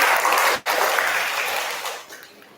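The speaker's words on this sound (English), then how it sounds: "let's give them all a huge round of applause" A speech contest audience claps for its participants, a dense wash of applause with a brief dip near the start, tapering gradually toward the end.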